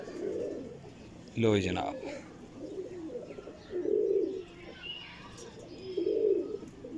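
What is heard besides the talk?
breeder pigeons cooing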